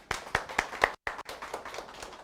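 Applause at an Amway business gathering in honor of Kang Moon-sook: a small group claps in a loose rhythm of distinct sharp claps, fairly close, with a brief dropout in the middle.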